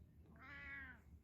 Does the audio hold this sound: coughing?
no